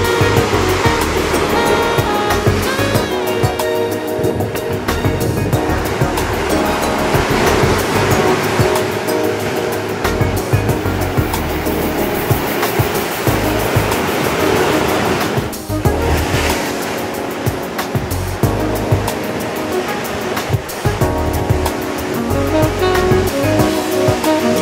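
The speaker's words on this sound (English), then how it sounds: "Way the big waves come in." Big ocean waves roll in and crash continuously along the rocky Monterey coast, a loud, dense roar of surf with no pauses and no voices.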